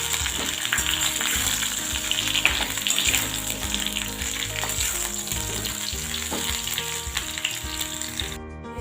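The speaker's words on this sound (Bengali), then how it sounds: "এবার পটলটা আমি ভালো করে ভেজে নেব।" Pointed gourd pieces fry in a pan of oil already tempered with kasuri methi, giving a loud, steady, continuous sizzle with faint crackles throughout and no voices.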